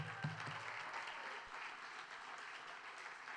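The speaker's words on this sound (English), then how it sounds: "Let's give him another round of applause." Steady applause from a concert audience at Stratford Playhouse, a full room clapping evenly at moderate distance, fairly quiet and sustained with no talking.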